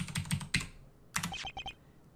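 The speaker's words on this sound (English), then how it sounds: "I'm going to be typing something a lot today, I guess." Typing on a computer keyboard for an in-game display, a close burst of crisp clicks at first, then a short pause, then a second run of lighter, rapid taps, with no talking.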